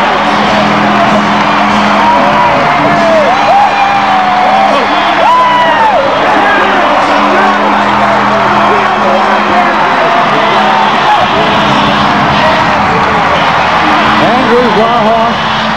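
Basketball crowd at the 1995 NBL Grand Final game 3 roaring and cheering as the Perth Wildcats clinch the championship over the North Melbourne Giants, a dense, sustained loud roar with whoops and horn-like tones throughout.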